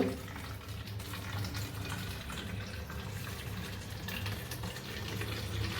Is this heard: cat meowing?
no